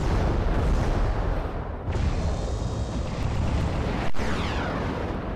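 Missile barrage and explosions in the video game MechWarrior Living Legends: dense, continuous rumbling booms and blasts filling the clip, with one sharp crack near the end, loud and without talk.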